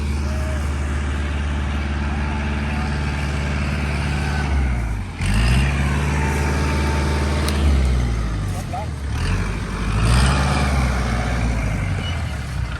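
A Kubota tractor's engine runs steadily close by with a deep droning hum, its pitch dipping and rising twice as the load or throttle changes, while someone speaks over it.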